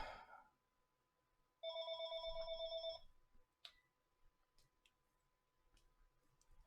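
A phone rings in the sci-fi video game 2001 Space Signals: a steady electronic trill of about one and a half seconds, loud against near silence, with a few faint clicks afterward.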